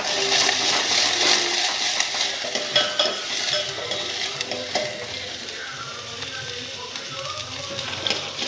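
Onions frying in hot oil in a home kitchen, a steady close sizzle with crackling pops and occasional stirring scrapes throughout, no one speaking.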